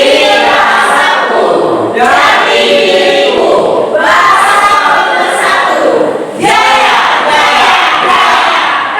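A school class shouts a rhythmic group cheer in loud unison bursts, chanted phrases repeating about every two seconds, with hand claps mixed in.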